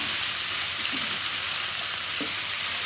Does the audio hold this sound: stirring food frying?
yes